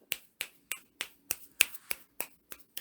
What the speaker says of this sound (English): the whole finger snap type thing